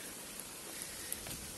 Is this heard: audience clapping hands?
no